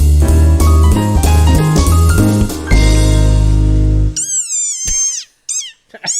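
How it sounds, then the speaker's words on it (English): An upset desert rain frog gives several short, high-pitched squeaks near the end, after a loud, sustained tonal sound that fills the first few seconds. "So here's the sound of a desert rain frog when it is upset."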